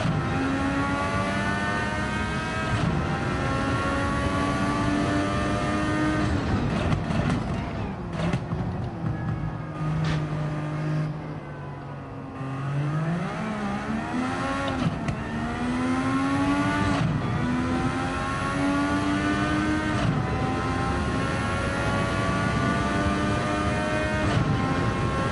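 Honda MP4/4 Formula One race car from Gran Turismo 7, its engine wailing loud and steady through rising gear runs, dipping once mid-way to a lower drone before climbing and screaming again, with no talking.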